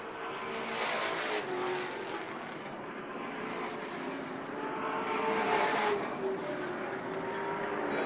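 Race cars at a 2013 season-opener feature event roar around the track at a distance, a sustained engine drone that swells and fades as the cars pass.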